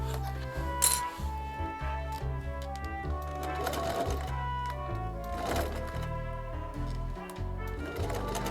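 A sewing machine works slowly along the curved seams of a rain cape, stitching in short bursts of a few stitches at a time, fairly quiet beneath a steady tonal background.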